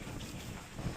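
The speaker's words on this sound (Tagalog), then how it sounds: "Grabe yung hangin." Strong wind roars and buffets across the microphone at a tent campsite on Aliguay Island, a dense rushing noise with no voices.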